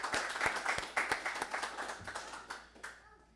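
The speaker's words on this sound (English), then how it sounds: "so let's give them a round of applause for even coming in today." Graduation audience at an executive protection academy applauding family members, a fairly dense round of hand clapping with distinct individual claps that thins out and fades away toward the end.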